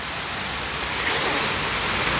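Heavy outdoor rain falling near a house beside a grove, heard as a constant broad wash of hiss that swells slightly midway, no talking.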